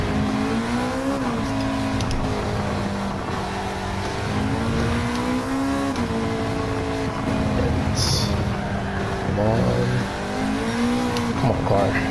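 A Honda Civic Type R FL5 engine on a track lap, revving and changing pitch steadily and loudly throughout as it accelerates, with a voice talking over it.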